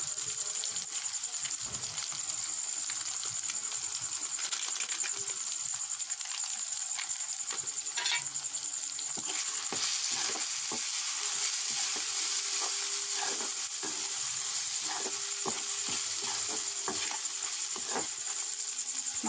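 Local chicken fries in a pan with turmeric and meat masala, making a continuous crackling sizzle with occasional stirring scrapes and clicks, steady and close throughout without speech.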